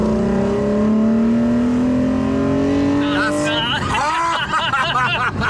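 Toyota Supra Mk5 engine with open intake velocity stacks, revving in a rising, strained drone for several seconds before breaking into a rougher, fluttering roar, loud and close with voices partly underneath.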